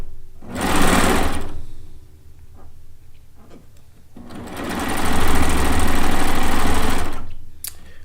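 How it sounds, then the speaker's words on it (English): An Evolve serger sews a two-thread chain stitch in two loud, steady motor-driven bursts of rapid stitching, separated by a quieter pause with a few faint clicks. "I'm just doing a 2-thread chain stitch is what I'm doing."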